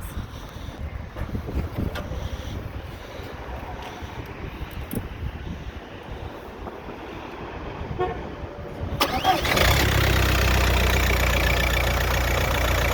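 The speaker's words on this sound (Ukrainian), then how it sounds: "Ну, мотор працює гарно, працює рівно." A 2003 Audi A4 engine idles with a low, uneven rumble, then revs up sharply near the end into a loud, sustained roar.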